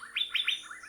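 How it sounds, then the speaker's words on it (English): Asian fairy-bluebird (Irena puella) from Thailand gives a quick series of four bright, rising whistled notes in close rhythm, clear and fairly near with no background voices. "The Asian fairy-bluebird-Irena puella is a strikingly colored bird."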